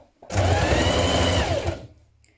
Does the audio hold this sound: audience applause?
no